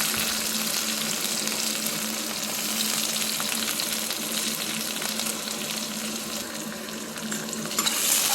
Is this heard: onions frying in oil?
yes